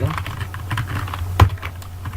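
Computer keyboard keys tapped while code is typed for a beginner website-design tutorial, a light steady patter of clicks with one firmer keystroke near the end, close and clear with no talk over it.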